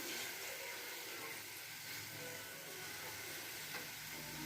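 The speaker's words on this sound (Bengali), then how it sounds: "লাল শাকটা দিয়ে দিলাম। একটু নেড়ে নেবো।" Red amaranth greens frying in a pan, stirred now and then, a faint, even hiss of sizzling and steam running steadily throughout without talk.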